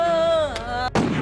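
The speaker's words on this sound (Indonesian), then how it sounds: "itu mah mercon" A single sharp firecracker bang, sounding like a gunshot, bursts out at the end after a sustained tonal voice-like sound, loud and close with a short noisy tail.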